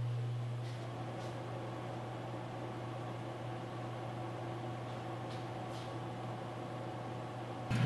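A pellet stove blower running in a shop, a steady low droning hum with airy fan noise, constant and moderately faint, with a couple of light clicks.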